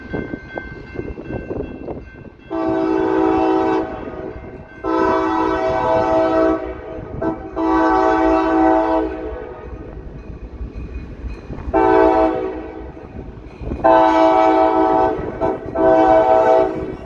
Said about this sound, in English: Got another train coming.